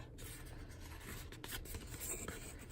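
A paper bag, the inner part of a loaded tag bag, is folded gently with soft rustling and rubbing of paper that continues steadily and close up throughout, with no talking.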